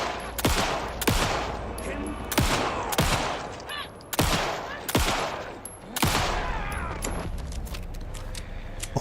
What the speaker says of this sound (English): those two FBC people did not hear many gunshots in the woods